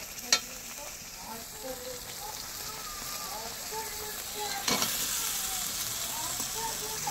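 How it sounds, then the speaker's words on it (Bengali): Cauliflower, potato and soybean chunks tipped into hot frying spices, setting off a steady close sizzle with scraping stirs and a sharp clatter near the start and again midway. "এবার ফুলকপি আলুটা আর সয়াবিনটা একসঙ্গে ঢেলে দেবো"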